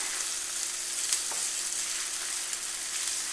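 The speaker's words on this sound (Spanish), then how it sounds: "aquí en lo que quedó en el sartén vamos a acitronar cebolla. Le volvemos a subir al fuego." Half a small onion sizzles in a frying pan over raised heat, cooking in leftover steak drippings, a steady even hiss close to the pan with occasional faint pops and no talking.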